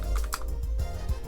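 A computer keyboard clatters through a short run of quick keystrokes as a fastboot command is entered, the taps close and light with no voices.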